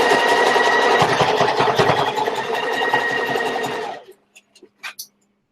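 An electric sewing machine stitches a zigzag seam on a fabric box pouch, running in a steady, loud mechanical whir for about four seconds before stopping, followed by brief clicks and handling noises.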